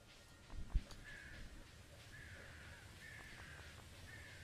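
Crows caw repeatedly in the farm game Stardew Valley, a series of raspy calls at moderate distance over a soft ambient background, with a brief thump near the start.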